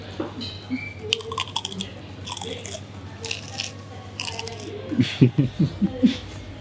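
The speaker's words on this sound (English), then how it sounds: "I'm gonna have a spring roll. This is gonna make a loud sound now." Biting and chewing a crunchy spring roll at a Cape Town eatery, close crisp crunches clustered near the end after quieter mouth sounds and background clatter.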